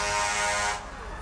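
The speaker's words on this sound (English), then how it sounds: "I guess there was no rule against blowing your horn in a parade" Horn blasts at a small-town October Fest parade in 1989, a loud sustained honk lasting under a second before cutting off, leaving a softer tail of crowd and street noise.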